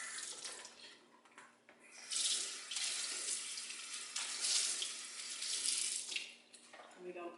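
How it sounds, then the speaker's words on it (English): Cold tap water runs into a sink to rinse raw meat, a steady splashing flow that swells and eases several times, with faint talk in the background. "Always rinse off in cold water."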